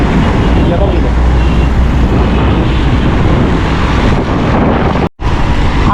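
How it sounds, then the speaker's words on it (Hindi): Strong storm wind in Karachi roars into the microphone throughout, a dense, steady buffeting rush with a brief dropout near the end. "आंधी तूफान के साथ हवा चल रही है, बहुत तेज़ हवा चलना शुरू हो चुकी है"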